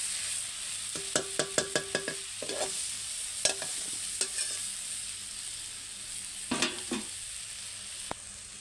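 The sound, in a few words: spices and vegetables being stir-fried in a pan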